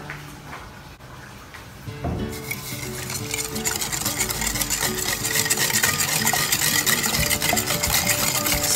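A spoon stirs sweet Filipino-style spaghetti sauce with sugar and UFC banana ketchup in a pot, scraping and swishing steadily while the sauce sizzles gently underneath.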